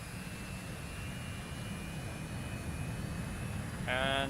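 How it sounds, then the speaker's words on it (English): Aircraft engines drone steadily as planes move toward the runway for takeoff in a video game match, a constant broad roar with a sharp tonal whine rising near the end. "Both teams are moving towards the runway here, getting ready to take off."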